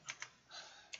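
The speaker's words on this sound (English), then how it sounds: "Am I typing that right?" Keys clatter on a computer keyboard in a few quick separate bursts, three short clicks and one longer run of keystrokes, fairly faint and close, with no voices.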